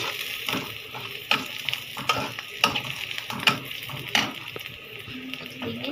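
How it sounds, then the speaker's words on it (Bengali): Bay leaves and cardamom frying in oil in a pan, a soft continuous sizzle broken by repeated clattering stirs of a utensil against the metal, close and without talk. "এখন আমি এখানে তেজপাতা আর এলাচ দিছি"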